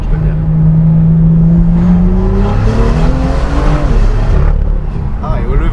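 BMW M2 in Kraków at full throttle, a loud, close engine roar climbing steadily in pitch through a gear before settling, with no talk over it.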